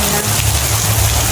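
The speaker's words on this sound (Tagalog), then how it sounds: "Grabe po kalakas ang ulan." Heavy rain pours down in a dense, constant hiss, loud and close, with no pauses.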